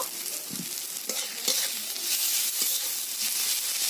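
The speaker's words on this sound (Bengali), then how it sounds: "টমেটো পেঁয়াজ প্রায় ভাজা ভাজা হয়ে গেছে। এতে দিয়ে দিতে হবে কুড়িয়ে রাখা রসুন" Tomato and onion fry in a pan as garlic is added, a steady loud sizzle broken by a few clinks and scrapes of a stirring spoon, with no voices.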